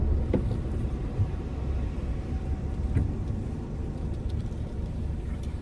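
Inside a car reversing into a parking spot, a low steady engine rumble and road noise continue throughout, with a few faint knocks and no talking.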